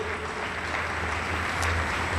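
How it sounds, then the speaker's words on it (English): An audience at an academic and athletic awards banquet claps continuously, a dense, even wash of applause filling the room without pause. "to give them a little bit of applause in regards to that"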